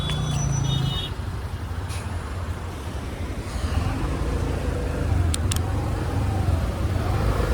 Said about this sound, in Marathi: आम्हाला माणगावला खूप जाम भयंकर ट्रॅफिक लागलं.